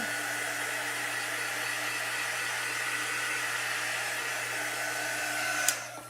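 A hair dryer blows steadily at close range to dry chalk paste on a craft sign, a constant even whooshing hum that holds without change, ending with a brief click as it switches off.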